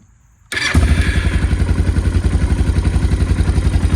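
A Suzuki DR650 fitted with a GSX-R muffler and Procycle mid pipe cold-starts on stock carburetor settings: brief silence, a sudden catch, then a loud, steady, throbbing idle close by.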